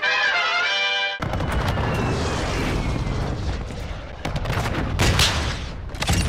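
Dense, rapid bursts of gunfire with booming explosions, loud and continuous, with a harmonic electronic tone at the start before the shooting erupts.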